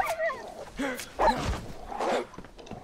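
Wolves in the DayZ video game yelp and snarl in a few sharp, close bursts across a few seconds, with fainter rustling between the cries.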